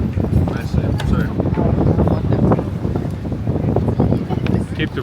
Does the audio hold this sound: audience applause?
no